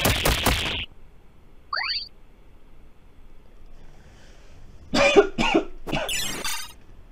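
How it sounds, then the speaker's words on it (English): A person coughs close to the microphone, first in a short harsh burst and later in a cluster of rough coughs and throat clearing, in an otherwise quiet room. "I really hate this cough."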